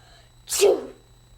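A single sharp sneeze, close and fairly loud, bursting out of near silence and fading quickly.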